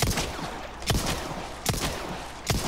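Gunfire aimed at the lake monster in Resident Evil 4 Remake, with three sharp shots spaced evenly over a few seconds above a busy game background.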